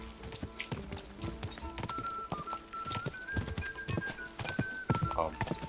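Horse hooves galloping during a horse race in the video game Kingdom Come: Deliverance, a rapid, steady clip-clop of hoofbeats running continuously under sustained game music.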